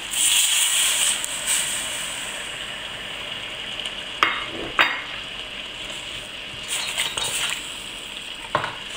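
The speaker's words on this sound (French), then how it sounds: "Et maintenant, je vais déglacer avec mon vin blanc." Steady sizzling hiss from a hot pan as it is deglazed with white wine, with a few brief clinks and scrapes of a utensil stirring against the metal.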